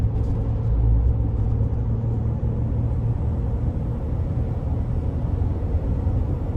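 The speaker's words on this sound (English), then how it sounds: "this thing sounds like a turbo diesel truck. Like the turbos are just really loud, really aggressive" A loud, low engine rumble with loud, aggressive turbo whoosh from inside a moving 2021 Ford Transit 250 conversion van, steady and continuous throughout, no talking.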